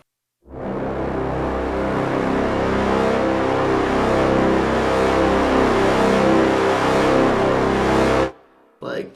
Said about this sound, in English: Monster Brass is really good for that low, trailer, almost Brahm-like sound, just really deep and low